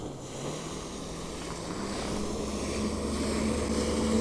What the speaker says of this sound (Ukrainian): Дівчата ганяють на таких скутерах